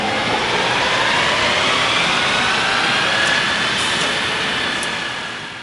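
A stock Ford Maverick tuned with a Cobb Stage 1 tune roars through a dyno pull on rollers, a loud sustained engine drone that holds near full strength before easing off at the end.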